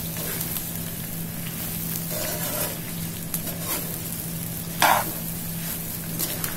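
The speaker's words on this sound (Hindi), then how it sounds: "इसे हम अच्छी तरह से मिक्स कर देंगे" Lemon peel pickle mixture with black salt stirred in a pan on a low flame, a close, even sizzle with intermittent scraping strokes and one brief louder scrape partway through; no speech.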